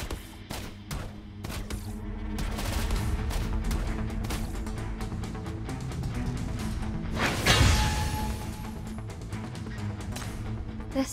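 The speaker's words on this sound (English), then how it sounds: "It is time for Hela to release her ultimate and fire at will." Rapid gunfire bursts from Hela's ultimate in the game Path To Nowhere, dense and loud, layered with impacts, whooshes and a heavy crash near the middle.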